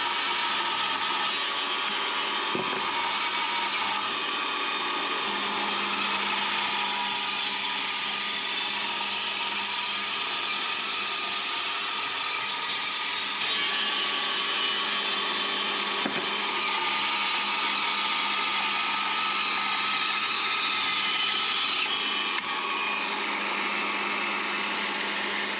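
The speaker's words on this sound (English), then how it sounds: "you can actually use this portable bandsaw like a normal one" A portable bandsaw cuts wood for newel caps with a long, steady mechanical whir and buzzing blade noise. Slight changes in pitch follow the cut, and no one speaks.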